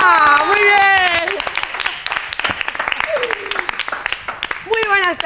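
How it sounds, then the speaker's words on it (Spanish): An audience applauds Marbella with steady, dense clapping throughout, while a voice and a higher voice talk loudly over it at the start and again near the end. "qué aplausos para Marbella"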